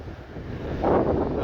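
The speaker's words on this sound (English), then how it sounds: "It's still really windy." Strong wind buffets the microphone on a sandy beach near Athens, with a roar that swells louder after a second as surf breaks, steady and close throughout.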